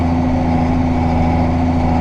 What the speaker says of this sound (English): Tractor's a little cold, it's kind of jumpy.